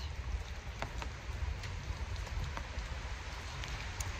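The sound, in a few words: rain falling on a street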